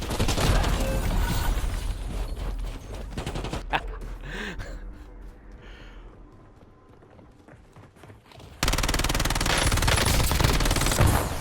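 Bursts of gunfire from a Warzone match, loud and dense at the start, thinning into scattered shots and quieter movement in the middle, then a sudden return to heavy sustained firing near the end.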